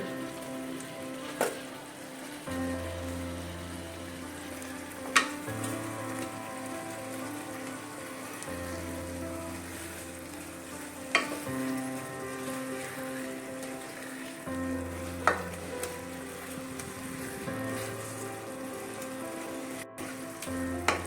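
Fried fish reheats in a pan for fish biryani, giving a continuous soft sizzle and crackle with a low hum that cuts in and out and occasional sharp ticks.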